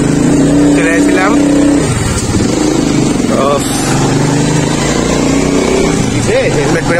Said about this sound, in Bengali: ফাইনালি 1 কিলোমিটার ঠেলার পরে গাড়ি স্টার্ট নিয়েছে